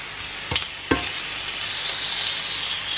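Steak sizzles steadily in a frying pan, a dense hiss that holds throughout, broken early by two sharp clicks or taps of a utensil against the pan.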